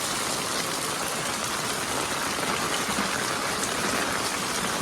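Heavy rain pouring over a flooded market street in Keshod, a dense, steady hiss of drops hitting water and surfaces, loud and unbroken for the whole stretch with no voices.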